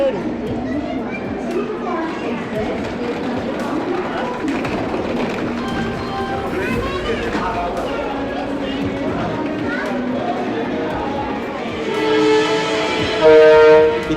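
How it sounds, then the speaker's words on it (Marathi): A train moves along the platform at the large Nagpur railway station, its steady rumble and squealing wheels filling the space, with people talking nearby and a loud horn blast near the end. "किती मोठं नागपूर स्टेशन बघू शकता."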